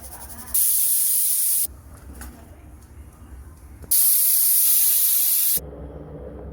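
A kitchen pressure cooker cooking raw mango whistles twice, each a loud, steady hiss of escaping steam lasting one to two seconds, with quieter cooking noise in the gaps.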